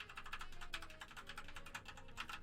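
Rapid, quiet typing on a Sharkoon Skiller Mech SGK1 mechanical keyboard with brown switches, a steady patter of soft key presses close by, without a distinct click.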